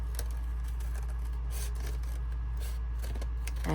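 Scissors snip through paper in short, close crisp strokes, a few cuts in quick succession over a low background hum.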